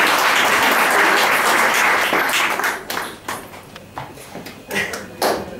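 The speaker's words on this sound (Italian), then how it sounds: "Signori e signore, un applauso!" Audience applauding at a live stage show in Milan, a dense burst of clapping that thins out into scattered individual claps.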